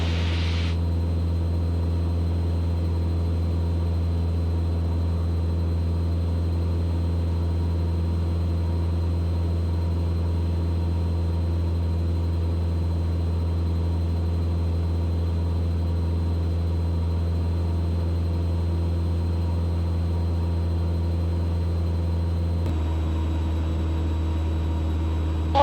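Steady, loud engine drone of a Mooney propeller plane climbing at about 130 mph, with a constant low hum and whine, unbroken throughout, shifting slightly in tone near the end.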